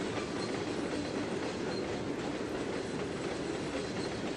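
Train rolling along rails in the Trainz 2022 simulator, a steady, loud rumble with faint clickety-clack over the track joints that runs continuously and evenly throughout.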